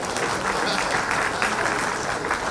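An audience in a Jharkhand government ministry hall applauds loudly and continuously, a thick close crowd clatter with voices mixed faintly underneath.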